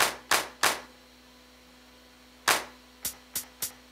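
Sharp sampled clap hits sound in two groups of three and four, crisp and close, with a faint steady hum underneath.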